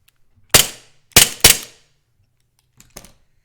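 A gun is fired in a Mogadishu drill, one shot to the head and then a double tap: three sharp, loud close reports, the last two in quick succession, followed by a fainter pair of clicks.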